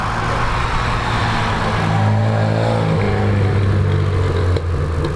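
Gavin Molden's Datsun launches off the start line at a lakeside hillclimb, its engine note loud and close, rising steadily in pitch as it accelerates away over about five seconds.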